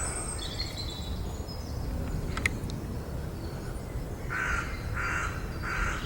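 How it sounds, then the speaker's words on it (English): A crow caws three times in a row, fairly clear and moderately near, after faint earlier calls against a steady outdoor background hiss. "Morning, Mr. Crow."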